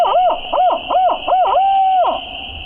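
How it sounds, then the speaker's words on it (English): A wild turkey on public hunting land gobbles in an odd, hen-like way: four rising-and-falling warbled notes in quick succession, then one longer sustained note, fairly close and clear with no talking over it. "So listen to this bird gobble."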